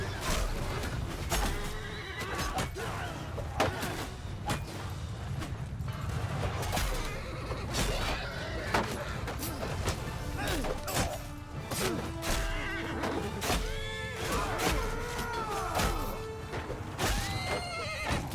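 Horses neigh and whinny repeatedly amid a chaotic battle in Mount & Blade II: Bannerlord, with hooves clopping, weapons crashing and a steady din of fighting throughout.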